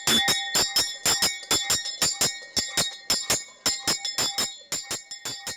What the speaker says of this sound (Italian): Ed è il suono della campana Manara Mauro a dare il via alla giornata